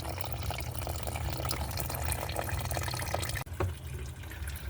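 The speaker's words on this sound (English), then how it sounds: "you put your container underneath, and the coolant will fall right in. There goes the drain valve there" Coolant pours steadily from the opened radiator drain valve of a 2003-2005 Honda Pilot V6 into a container below, a continuous close splashing trickle that briefly dips near the end, with no voices.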